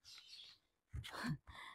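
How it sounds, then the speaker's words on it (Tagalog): Birds chirp and tweet in short bursts, a few clear calls close by with brief pauses between them. "At ang sarap pakinggan ng mga kantahan ng mga ibon."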